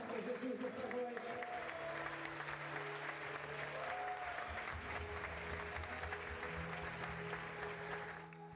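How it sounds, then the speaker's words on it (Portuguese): A church congregation claps steadily and enthusiastically for several seconds, a dense sustained applause with crowd murmur and some voices underneath, tapering slightly at the end. "Uma salva de palmas para Jesus nessa noite."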